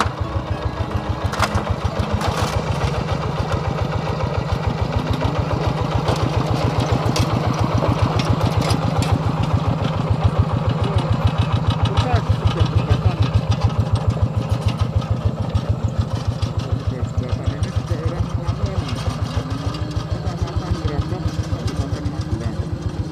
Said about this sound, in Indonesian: Oke, tadi ada traktor lewat.